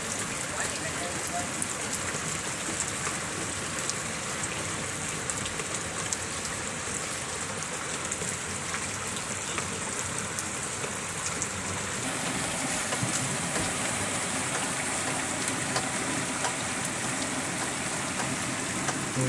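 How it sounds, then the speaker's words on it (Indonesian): Heavy rain falls steadily during a fishing trip in strong wind, a dense, unbroken hiss of drops that stays loud and even throughout with no clear voices over it. "mau nyampe nih hujan, dari berangkat sampai sekarang masih hujan ini"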